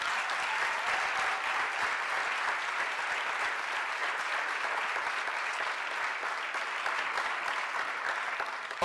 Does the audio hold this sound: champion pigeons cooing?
no